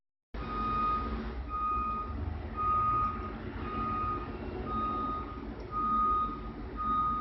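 Steady reversing beeps from a backing truck repeat at an even rhythm over a continuous engine rumble, fairly loud and with no talking.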